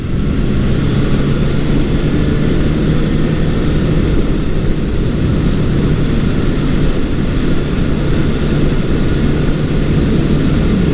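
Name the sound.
Honda CB750 motorcycle engine running while riding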